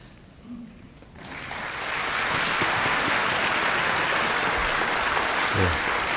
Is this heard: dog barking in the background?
no